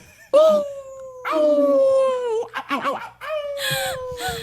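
A man imitates a dog howling, with long wavering howls that rise and fall and are broken by laughter and short yelps, loud and close.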